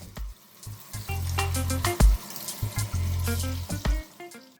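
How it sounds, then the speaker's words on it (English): Running water from a tap splashes steadily over stripped callaloo leaves being washed, with short bursts and pauses as the greens are handled under the flow, close and fairly loud. "Now that it's stripped, it's time to wash again and get ready for cutting."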